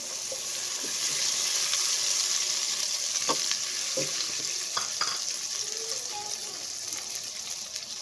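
Chopped garlic sizzles steadily in hot oil in a new pan, a continuous close hiss with a few faint clinks of stirring, no talking.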